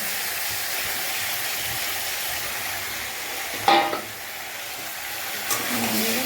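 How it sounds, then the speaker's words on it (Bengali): Meat and potatoes sizzle steadily in a pan as they are stirred together, with a louder scraping burst of the spoon near the middle and another brief clatter toward the end. "মাংসটা পুরো ওর মধ্যে মিশিয়ে দেবো"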